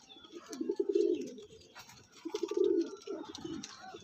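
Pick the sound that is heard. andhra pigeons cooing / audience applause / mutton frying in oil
andhra pigeons cooing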